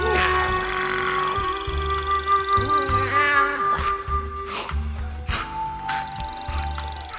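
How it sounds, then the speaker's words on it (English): Meows from the Agent Meowsicles cat audio in the Fortnite video game, a string of drawn-out tonal cries layered over a steady low musical hum, fairly loud and close throughout. "if you play this audio, you can hear a bunch of meows"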